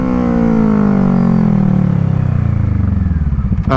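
A 2012 Kawasaki ER6N motorcycle under braking, its engine note falling steadily in pitch as it slows, loud and close, with a brief clatter at the very end.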